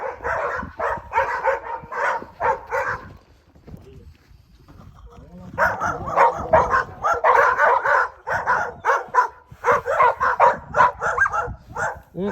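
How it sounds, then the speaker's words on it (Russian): Laika hunting dogs barking in repeated loud bursts of yaps and barks with a brief lull in the middle, while people talk alongside. "У тебя, думаю, что собаки лают."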